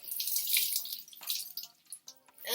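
Water is wrung from a wet washcloth, streaming and splashing in a brief close, bright rush that falters and resumes in uneven bursts.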